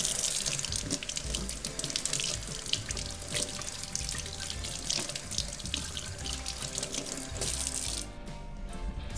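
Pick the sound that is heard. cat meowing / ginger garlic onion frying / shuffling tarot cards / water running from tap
water running from tap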